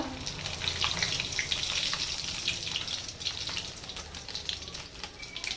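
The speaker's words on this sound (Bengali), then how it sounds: "কড়াটা গরম হয়ে গেছে, দিয়ে দেবো 5 ফোড়ন" Bengali five-spice seeds and a bay leaf crackle in a hot karai, a close, busy sizzle with scattered pops that runs steadily throughout, with no talking over it.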